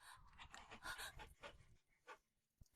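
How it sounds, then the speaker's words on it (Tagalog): A dog panting in short, quick breathy bursts, close and fairly faint, trailing off into a few scattered breaths. "Siya, isang aso."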